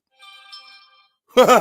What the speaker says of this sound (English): just got my notification